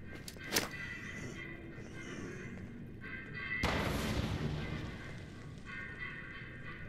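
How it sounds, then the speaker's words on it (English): A grenade explodes in the video game Fallout 76: a sharp crack followed midway by a broad, rumbling blast that lingers and fades, heard at a moderate distance under a steady game ambience. "Toss a grenade."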